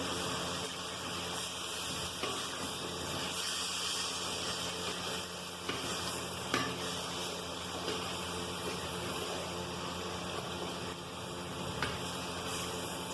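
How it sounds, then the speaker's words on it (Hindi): Half-boiled peas fry lightly in a pan alongside sausage for elbow macaroni, producing a steady, even hiss and bubbling sizzle with a few faint clicks, continuous and close throughout. "ये ऐड कर दी, इसको लाइट सा फ्राई करेंगे।"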